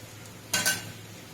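Whole cardamom, cloves and cinnamon tempered in hot oil for chicken bharta, giving a short burst of sizzle and clinking stir about halfway through, then dying back to quiet kitchen room tone.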